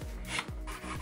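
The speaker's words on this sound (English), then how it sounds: "I lightly go over it again with a sanding stick, just to sharpen up some of the edges" Sanding stick rubbing over cured clay on a large 3D-printed Thanos figure, in short close raspy strokes, about three quick passes, quiet and alone.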